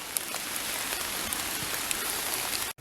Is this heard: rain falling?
yes